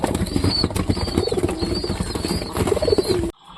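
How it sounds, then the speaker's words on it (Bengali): Pigeons flapping their wings and cooing nearby, repeated soft coos over busy wing flutters and rustling, cut off abruptly at the end. "সব কবুতরগুলো খুব সুন্দরভাবে খাচ্ছে"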